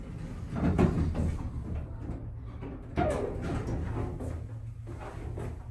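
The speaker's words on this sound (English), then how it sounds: "We'll let the door close first." A 1980s Otis elevator at a university communication school slides its door shut, a low rumbling slide with a soft thud partway through, then the cab hums quietly, with no talking over it.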